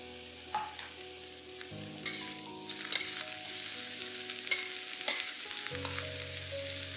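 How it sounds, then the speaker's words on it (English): Cabbage stir-frying with dried shrimp, soy sauce, pepper and spring onion greens, a steady close sizzle with bursts of louder frying and scraping as the pan is tossed and stirred, no voices. "Give all this a good mix."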